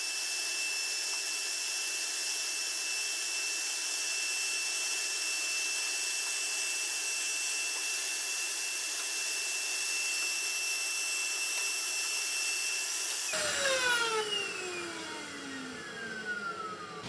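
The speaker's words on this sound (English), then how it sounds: "Use the vacuum and get it off." A vacuum cleaner sucks black soot from the interior of a gas fireplace, a steady loud whine that holds evenly for a long stretch, then shifts as the motor pitch drops and winds down near the end.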